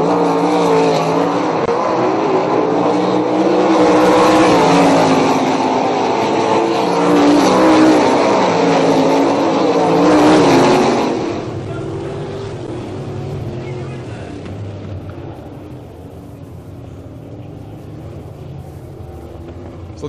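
Race cars at an oval short track roar past in a loud, steady engine drone that swells and then drops to a lower, more distant hum after about eleven seconds, with a commentator talking over it.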